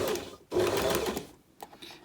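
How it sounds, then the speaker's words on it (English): A sewing machine back tacks on rouleau loop strips, running in two loud, close bursts of rapid stitching split by a brief pause, then a few lighter mechanical taps. "So just do some back tacking to begin with"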